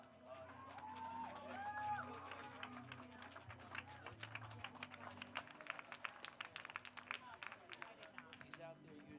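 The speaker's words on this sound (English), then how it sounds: "Give me a round of applause as they come out." Scattered clapping from the audience at a USAPL Ohio Classic bench press and deadlift powerlifting meet at the 2016 Arnold, building into a sustained patter of claps over the crowd's murmur and voices.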